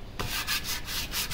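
Hand sanding a part of a 1950 LeBlond Regal 17-inch lathe with a sanding block during restoration, heard as a steady series of close, loud, rhythmic abrasive back-and-forth strokes with no voices.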